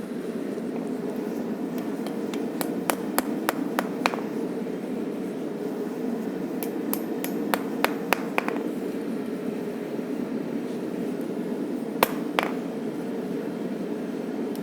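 A hammer straightening a railroad spike knife blade, sharp metallic strikes arriving in quick clusters of several blows, separated by pauses, over a steady loud roaring hum that sounds like a forge blower.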